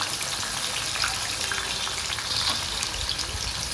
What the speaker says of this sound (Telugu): కడాయి పెట్టుకొని నూనె పోసుకోవాలి. బాగా అయినాక ఆనియన్స్ వేసుకోవాలి.